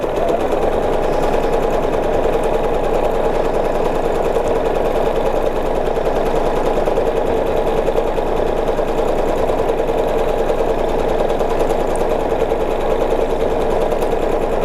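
A sewing machine runs steadily at speed while free-motion quilting a ribbon candy pattern along a seam line, a loud, close, continuous mechanical whirr with fast even stitching rhythm and no pauses.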